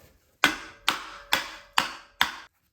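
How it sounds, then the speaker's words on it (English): Five sharp metallic strikes of a hammer on a BMW N20 engine part during teardown land in an even rhythm about half a second apart, each ringing briefly before the next. "just for fun, I'm going to try and hit this thing with a hammer"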